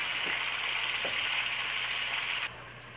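A pot roast sears in a hot pot, giving a loud, steady sizzle throughout with a few faint utensil knocks, dropping suddenly in level near the end.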